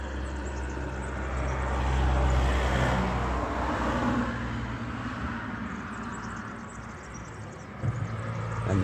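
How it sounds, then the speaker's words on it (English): Cars pass along a rural road in central Portugal: a broad rushing swell builds to a peak early on, then fades into a steady low rumble, with another approach faintly rising near the end. "here's the third vehicle coming, the other way this time."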